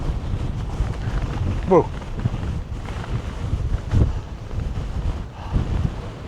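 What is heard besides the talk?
wind on mountain peak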